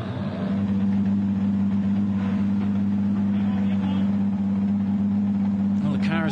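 A race car engine idles steadily in the pits at the Hampton Downs 12 Hour, a loud, even drone holding throughout under a commentator's voice.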